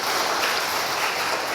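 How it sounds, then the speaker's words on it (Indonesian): A church congregation applauds during a worship service, giving steady, dense clapping that fills the space evenly for a moment with no voices standing out. "Boleh kita berikan tepuk tangan buat Tuhan."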